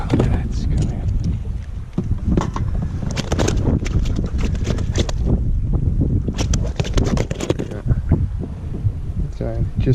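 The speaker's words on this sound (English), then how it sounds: "The wind has been horrible" Gusty wind buffets the microphone on open water while kayak fishing for flathead in Central Queensland, a rough loud roar with choppy bursts, and someone talks over it.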